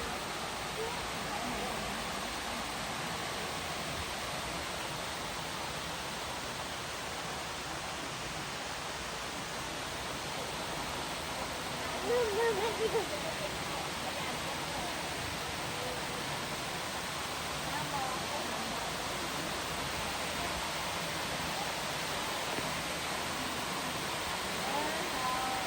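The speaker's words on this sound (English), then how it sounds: "is a much better waterfall than the first one we went to" Steady, full rush of falling water at Na Mueang Waterfall on Koh Samui, heard as a constant broadband roar that fills the whole stretch, with a brief faint sound rising above it partway through.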